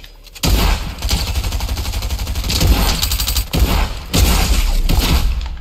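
Rapid bursts of video game gunfire crackle loudly and almost without pause, like automatic weapons, with a couple of brief gaps between volleys and no talk over them.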